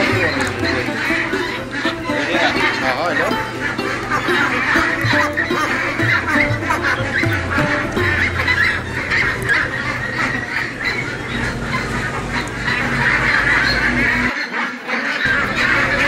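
A large flock of commercial Pekin Star 13 ducks, raised for meat on a farm, quacks in a dense, continuous chorus close by while someone talks over the noise.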